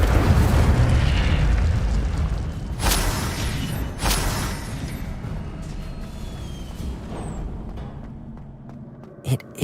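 Incendio fire spell cast in the Hogwarts Legacy video game, a loud rumbling burst with sharp bangs around the middle, fading toward the end with a final crack.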